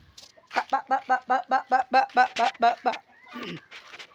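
Chickens being fed cooked rice at dusk cluck in a rapid, regular run of about a dozen loud, close calls, followed by a few softer scattered clucks.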